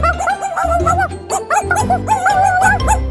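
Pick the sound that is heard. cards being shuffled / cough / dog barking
dog barking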